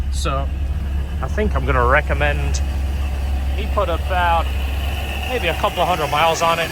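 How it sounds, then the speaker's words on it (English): A supercharger blower on a Honda S2000 engine drones steadily at idle, a constant low hum with a faint whine running beneath someone talking throughout. "This is the sound of the blower, by the way. They are kind of noisy."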